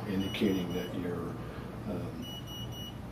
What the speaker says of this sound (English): you hear these 3 beeps going on right now